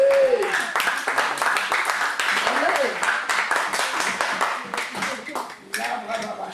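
A church congregation claps and cheers throughout, with a lively burst of applause under continuous voices and a preacher speaking over the top.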